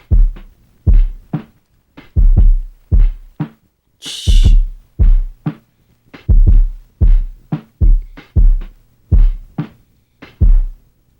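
An Akai GX-630D reel-to-reel tape recorder plays a tape at the slow 3 3/4 speed, giving deep, muffled, heavy thumps in a slow, steady rhythm with a short hiss burst partway through.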